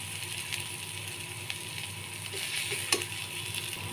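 Oil sizzling softly in a pan on a low flame, a steady faint frying hiss with a few light clinks and stirring scrapes, no voices over it.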